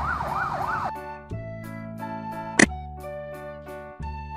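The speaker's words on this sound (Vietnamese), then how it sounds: "Đây là xe cảnh sát của Hàn Quốc" A South Korean police car siren wails in a rising and falling pattern. It then cuts to steady electronic tones, broken by a sharp loud burst, and sounds close and prominent with no speech.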